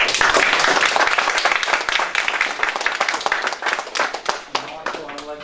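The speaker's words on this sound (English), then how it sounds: "Marshall a round of applause." Attendees at a planning and zoning board meeting give a round of applause, loud and dense at first and gradually thinning into scattered individual claps, with some talk mixed in.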